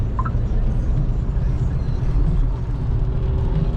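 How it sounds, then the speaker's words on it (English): A diesel engine idles in a workshop, giving a steady, rough low rumble that holds close and fairly loud without a break for a few seconds. "do you hear that dirty diesel?"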